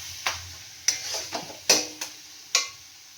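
Masala being stirred and fried in a pan, a soft sizzle under five or six distinct scraping clinks of a spatula against the metal, spaced irregularly, close and fairly quiet.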